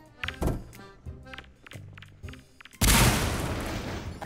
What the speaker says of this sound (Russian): давайте я гранату брошу туда